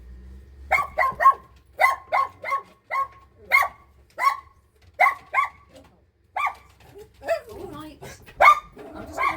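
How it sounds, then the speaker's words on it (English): A dog at home barks in a rapid run of loud, sharp barks at someone coming up the driveway to the door, with brief pauses between bursts and a few quieter whines near the end. "She was barking for a reason, because there was someone walking up my driveway."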